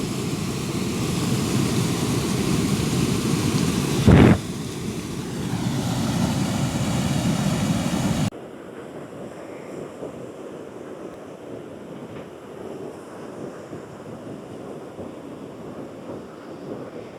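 Water pours over the spillway of the Iranamadu reservoir dam in Kilinochchi, a loud constant roar with a brief thump midway that drops abruptly to a quieter, distant wash for the second half.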